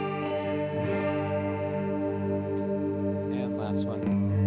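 A Caline Big Dipper CP-36 pitch shifter pedal warbles a guitar's sustained chords with a wobbling, chorus-like pitch shimmer. Faint pick and string noises are heard, with no talking.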